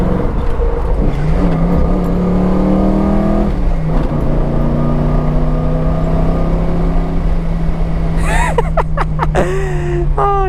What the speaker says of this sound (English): I know this is a built engine, and I know she freaking rips.